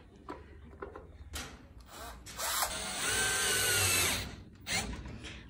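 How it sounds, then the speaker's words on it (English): A cordless electric screwdriver drives screws while a Tepro 7132 bike garage box is assembled, giving several short whirring bursts and one longer drive, close and fairly quiet, with handling clatter in between. "we save so much time now using this electric screwdriver"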